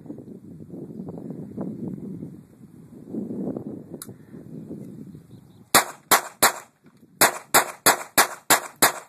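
A Sig Mosquito pistol fires about ten sharp, loud shots in quick uneven bursts, following several seconds of low rumbling handling noise.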